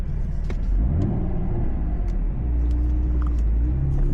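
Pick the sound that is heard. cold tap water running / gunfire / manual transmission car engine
manual transmission car engine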